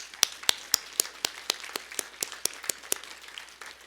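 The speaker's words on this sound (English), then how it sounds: "join me in honoring this year's Michelson laureates with a" Audience applause honoring Michelson Prize laureates at a vaccine development science talk, heard as a sparse run of about a dozen distinct, evenly spaced claps, fairly faint and nearby, with no voices.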